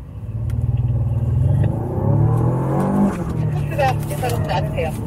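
A Renault Samsung SM6 facelift with a 225-horsepower engine pulls away from a start, its engine revving up loud and close through rising gear pulls, with people talking over it.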